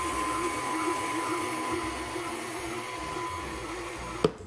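A stand mixer kneads soft bread dough for breadsticks, giving a steady, loud motorized whir with a rumbling churn throughout and a single sharp knock near the end.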